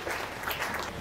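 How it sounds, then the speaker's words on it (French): Audience applause at an academic presentation, a brief, fairly faint patter of many hands clapping with no speech over it. "Applaudissons."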